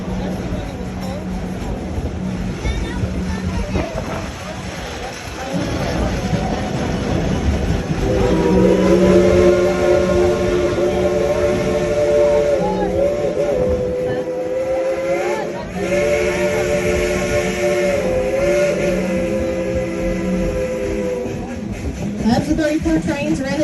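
A steam train rumbles along as a long, sustained whistle sounds over it, with the heavy chugging of the engine continuing throughout.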